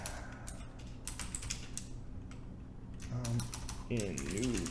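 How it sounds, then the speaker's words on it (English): Rapid clicking of computer keyboard keys while typing, close and fairly quiet, with someone speaking over the final part. "So we're going to type in Yoga Guru in New"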